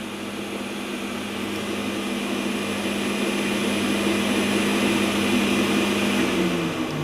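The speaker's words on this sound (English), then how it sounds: "the sound of the cooling system" The cooling fan of a BEST BST-863 heat gun station whirs steadily with a constant hum, unchanging for several seconds before its pitch dips slightly at the end.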